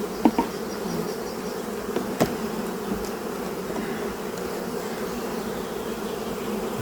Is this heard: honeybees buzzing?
yes